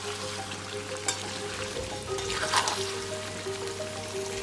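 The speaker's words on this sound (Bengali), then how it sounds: "ভালো করে আলুগুলোকে আমি ডিপ ফ্রাই করে ভেজে নেব।" Small potatoes deep fry in oil with a gentle, continuous bubbling sizzle, a slightly louder surge midway and a faint background tone, with no one speaking.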